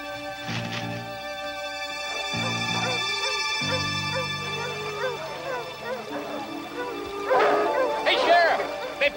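Tracking dogs bark, yip and whimper in bursts while running along both sides of a stream on a manhunt, loud and close, with a howl-like cry building near the end.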